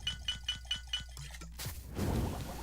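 Glass bottles clink repeatedly in a steady rhythm as potions are brewed at an alchemy lab in Oblivion Remastered, followed by a brighter chime and a swelling shimmer of magical effect.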